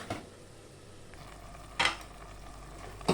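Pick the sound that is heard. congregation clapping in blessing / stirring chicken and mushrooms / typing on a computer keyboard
stirring chicken and mushrooms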